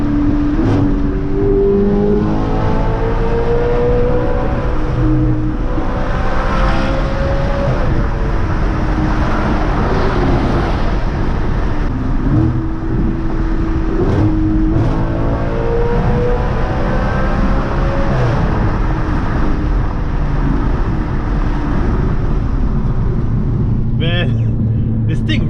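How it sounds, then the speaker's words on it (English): An Audi RS5's exhaust pulls hard during freeway acceleration, its engine note climbing steadily through the revs in a couple of sustained surges, loud and close, with a steady road roar underneath. "just a couple baby pulls so you guys can hear the exhaust more"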